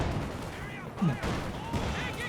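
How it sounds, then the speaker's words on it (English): Heavy mortar fire in Company of Heroes 2, a 3v3 match on the Red Ball Express map, with a burst of explosive impacts and gunfire layered over a continuous battlefield mix, a louder thump standing out near the middle. "Heavy mortars coming on in"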